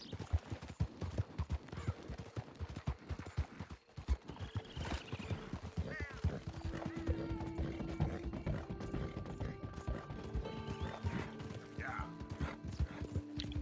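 A horse's hooves clip-clop in a steady rhythmic gait in the Red Dead Redemption 2 video game, moderately loud, mixed with faint mechanical clicks and a brief whinny, while someone talks over it.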